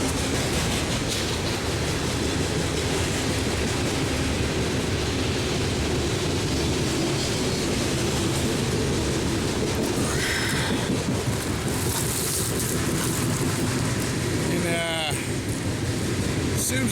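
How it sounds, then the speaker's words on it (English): A train rolls past on nearby tracks in a steady, loud rumble that fills the whole stretch, with a brief metallic squeal rising near the end. "There's a train coming"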